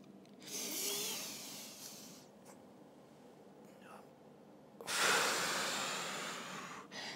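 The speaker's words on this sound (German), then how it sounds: "Atme hier ein und atme hier aus." Someone breathes in and out during a thoracic spine rotation exercise, two long, close, airy breaths separated by a quiet pause.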